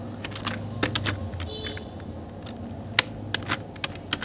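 Fingers typing on a computer keyboard while writing C code: irregular clicking keystrokes with a few sharper taps, close and moderately loud over a faint low hum.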